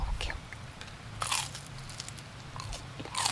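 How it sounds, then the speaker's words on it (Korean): A bite into a crunchy ham and cheese croffle, close and crisp, with a few sharp crunches followed by quieter chewing. "햄치즈 크로플 먹어볼게요"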